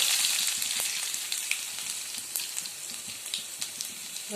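Mustard seeds, cumin and garlic sizzle steadily in hot oil, a dense close crackle with scattered sharper pops and spits throughout, no voices.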